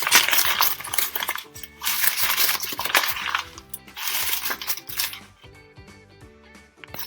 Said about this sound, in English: So I'm going to crumple and open.